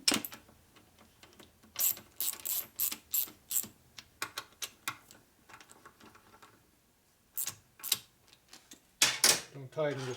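Ratchet clicking as bolts are run down into a 1972 Harley-Davidson Sportster Ironhead XLCH engine case during a motor rebuild, in short irregular bursts of close mechanical clicks with pauses between.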